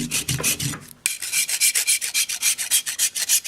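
A large rasp filing a plaster sculpture base, steady back-and-forth scraping strokes in a quick even rhythm, loud and close, with no talking.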